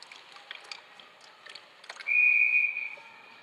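A referee blows a single long, shrill whistle at a girls' ice hockey game between Northwood and Shattuck St. Mary's, loud and steady, after scattered soft rink noise and skate scrapes.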